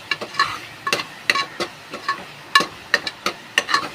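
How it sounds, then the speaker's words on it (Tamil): Biryani masala and chili powder fry in hot oil while being stirred, giving a series of sharp, close scraping and sizzling bursts in a quick, uneven rhythm. "இது நல்லா இந்த எண்ணெயிலே வதங்கிடுச்சுன்னா அந்த பச்சை வாசனை போயிடும்"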